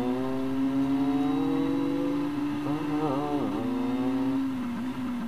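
A car engine in Volvo The Game hums steadily, then rises and falls briefly around a gear change, a sustained close drone with no one talking.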